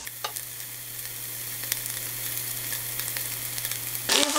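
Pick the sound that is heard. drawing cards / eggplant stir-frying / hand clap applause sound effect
eggplant stir-frying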